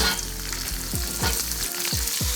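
Vegetables stir-fry in a hot pan for jjajangmyeon, a loud, dense sizzle close up, with a steady low hum and a few short clanks of the utensil against the pan.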